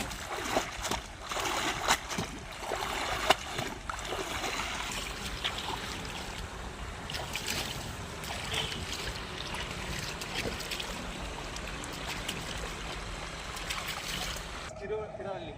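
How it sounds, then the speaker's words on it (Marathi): A boat moves on the water near Alibag with soft lapping, trickling water and wind throughout, while people talk intermittently in the background; steady and moderately quiet. "बोईट आहे"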